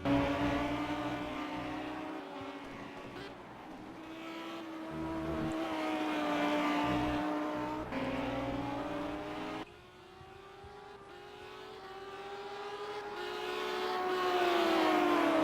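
Race car engines in the Simraceway racing game, a close, steady whining roar that rises and drops in pitch through gear shifts and acceleration, continuous for the whole stretch with no voices.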